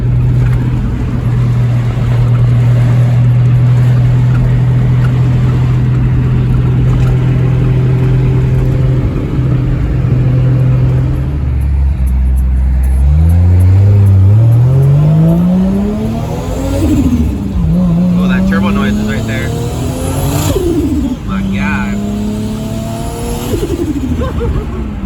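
Toyota Supra Mk3 with a 2JZ-GTE engine held at a steady drone on a dyno, then revved hard in several rising sweeps with sharp drops between gear pulls, loud and close throughout.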